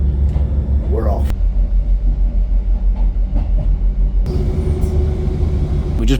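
A train rolls along with a steady low rumble under the passengers, slowing as it pulls into a small town station; a voice talks over the continuous rolling noise throughout.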